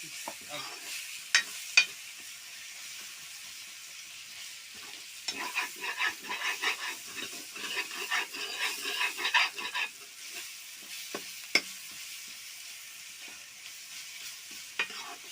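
Onions fry in a pan for a pumpkin dish in a home kitchen in the hills, giving a soft, steady sizzle with occasional scraping stirs and brief clinks of a spoon, close but fairly quiet.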